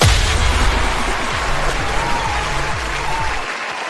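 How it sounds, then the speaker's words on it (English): Loud, continuous crowd applause and cheering at a live business show's opening, a dense steady roar with low thumping bursts underneath, thinning slightly toward the end. "listen to that crowd out there, Paul. They are fired up."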